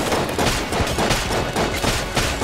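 Dense, loud, continuous gunfire fills the dungeon-crawler shooter Enter the Gungeon, with rapid overlapping shots and bursts that keep going without a break.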